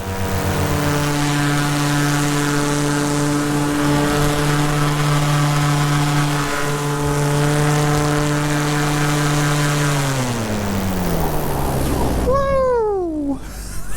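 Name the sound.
paramotor engine revving at full power in flight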